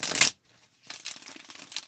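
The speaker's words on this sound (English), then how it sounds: "We're gonna shuffle them." Cards are shuffled up close: a quick riffling burst, a brief pause, then a longer run of soft, rapid flicking and sliding.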